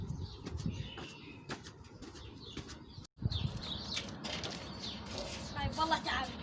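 Pigeons flapping and cooing around a rooftop loft, soft wingbeats and murmuring coos under constant talk from people nearby, with a brief dropout midway.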